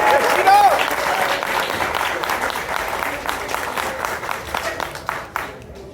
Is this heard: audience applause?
yes